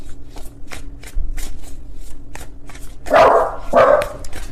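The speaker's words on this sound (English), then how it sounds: "Please ignore my dogs in the background." Two loud dog barks ring out close by in a home, following a run of soft card-shuffling and handling sounds.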